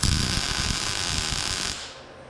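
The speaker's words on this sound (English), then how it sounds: "Quick tack on that corner, that's it." A welder tack-welds a caster onto a cart built from a service truck ladder rack, giving a close, steady crackling buzz that lasts under two seconds and then cuts off, leaving a faint hiss.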